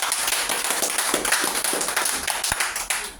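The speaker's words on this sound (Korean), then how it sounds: "우리 이제 정현수 원장님을 큰 박수로 모시겠습니다." A lecture audience claps to welcome the speaker, a close, steady patter of many hands sustained throughout with a few sharper individual claps.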